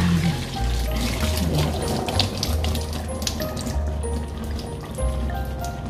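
Boiled macaroni being drained, with a continuous splashing, gurgling pour of water and small clinks, steady and close throughout.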